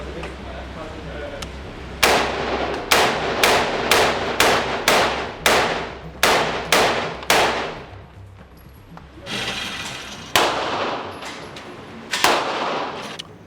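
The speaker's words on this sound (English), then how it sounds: "All right, so we just got done shooting." Gunfire at a shooting range: a rapid string of about a dozen loud, sharp shots, some closely spaced, then a pause and a few more single cracks, close and dominant over faint background.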